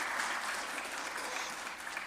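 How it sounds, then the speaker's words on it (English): Soft, sustained audience applause in council chambers during a general committee meeting, with even clapping at moderate distance and no talk over it. "I know we want to give applause when somebody's saying what you agree with"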